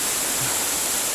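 A small river near Tumpak Sewu waterfall rushes loudly and continuously as a steady broadband wash of flowing water.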